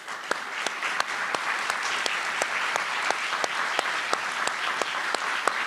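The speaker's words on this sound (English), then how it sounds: "You can stand and have a round of applause." A standing graduation ceremony crowd at an aviation university gives a round of applause, a dense, even wash of clapping with a few sharp claps popping out regularly, steady throughout.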